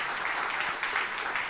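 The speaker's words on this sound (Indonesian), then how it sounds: "Tepuk tangan yang meriah untuk kemuliaan." Steady applause from a church congregation fills the whole stretch, a dense, even clatter of many hands clapping together without pause.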